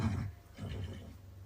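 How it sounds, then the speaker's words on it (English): A Tikbalang, a horse-like creature of Philippine folklore, gives two short, close, rough neighs in quick succession. "I found some noises of a Tikbalang."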